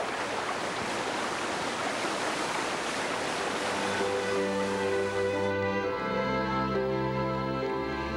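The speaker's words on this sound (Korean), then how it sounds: "웅선폭포가 있습니다." Ungseon waterfall on Myohyang mountain pours as a steady, dense rush of falling water throughout, with sustained instrumental music rising over it in the second half.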